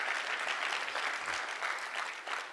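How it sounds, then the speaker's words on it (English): An audience at college livestock student presentations applauds in a dense, continuous burst of clapping, fairly soft and distant, steady throughout with no voices over it. "Let's offer another round of applause for this wonderful presentation that these students did."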